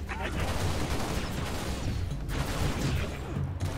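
Gunfire and plasma shots in the video game Halo Reach crackle in a dense, continuous barrage of bursts and impacts, loud and busy throughout.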